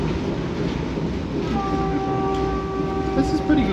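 Steady rumbling of an Indian passenger train rolling along the rails, with a faint high whine rising partway through and a few light clicks over the noise.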